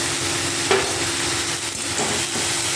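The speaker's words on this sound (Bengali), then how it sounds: "ভালো করে বাঁধাকপিটাকে কষিয়ে নেবো" Cabbage with turmeric and salt sizzles and hisses in a pan, with occasional scrapes and knocks of stirring, steady and close.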